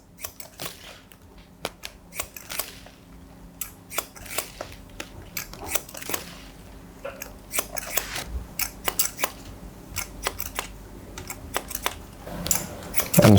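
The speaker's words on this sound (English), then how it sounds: "doing scissors over comb just works just as well" Haircutting scissors snip over a comb in a barbershop while long hair is cut, producing quick, crisp close-up clicks in irregular bursts over a faint steady room hum, with no talking.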